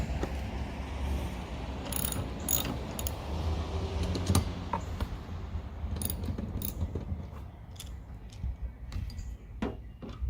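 A ratchet with a 14mm socket working the nut on a windshield wiper arm, faint close clicking and quick ratcheting bursts with small metallic taps, scattered irregularly through a quiet workspace.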